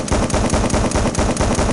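Rapid fully automatic gunfire from a weapon in Gun Club VR, loud and close, with rattling bursts in quick rhythm filling the whole moment without pause.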